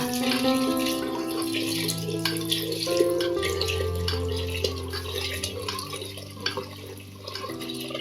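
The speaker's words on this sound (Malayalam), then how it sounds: "രണ്ടാം പാൽ ഒഴിക്കാട്ടാ" Coconut milk pours and splashes steadily into a pot of payasam, with a constant low hum beneath and no talking.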